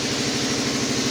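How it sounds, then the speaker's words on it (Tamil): A nearby engine runs at a railway bridge construction site in Pamban, a steady, close, loud idling rumble with an even pulsing throb throughout and no talk. "அங்கிட்ட கிட்ட இன்ஜின் ஓடுது அதனால் சவுண்டு சரியாக கேட்காது"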